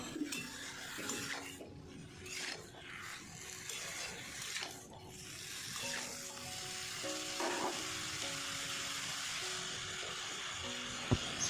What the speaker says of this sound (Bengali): সেদ্ধ করে রাখা কচুর ডাঁটাগুলো দিয়ে ভালো করে নেড়ে নিচ্ছি।